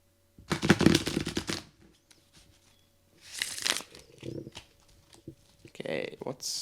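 Tarot cards are riffled and shuffled in a few quick bursts, crisp and close, with pauses between.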